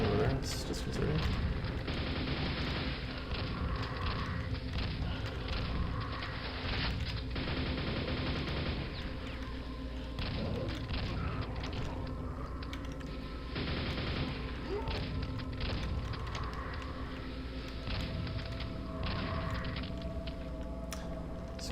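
Explosions and gunfire-like bursts from the Quake 1 mod Arcane Dimensions, on the ad_dm1 and ad_necrokeep maps, rumble steadily through the game's soundtrack, with repeated booming blasts at a moderate distance under a voice.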